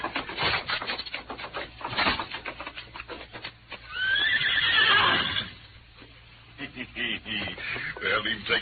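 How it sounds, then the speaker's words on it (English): Horses in a stable at the rear of a building, with a loud drawn-out whinny in the middle, wooden knocks and hoof clops around it, and voices talking before and after. "Our horses are in the stable at the rear."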